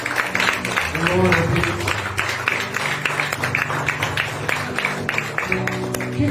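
A church congregation claps for the Lord, a dense patter of hands continuing steadily while voices talk and call out over it.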